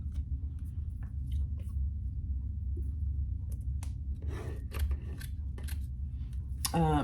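Scissors snip roughly through fabric while a zipper case is being made, giving several close, crisp cuts over a low background hum, with a quick run of snips at the very end.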